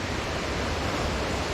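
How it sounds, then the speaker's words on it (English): Holcomb Creek Falls roars as a dense, steady broadband rush of falling water, loud and close, with no other sounds. "This one is Holcomb Creek Falls."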